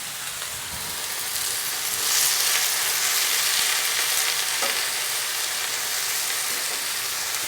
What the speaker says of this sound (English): Got a little sizzle going.